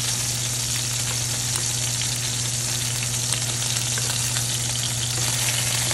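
Food for pancit palabok fries in a pan, turned now and then until golden brown, with a loud, unbroken sizzle of hot oil throughout.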